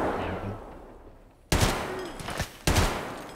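Gunfire in the video game Escape from Tarkov: two sharp, loud bursts of shots about a second apart, each trailing off with echo, following a quieter stretch of game ambience.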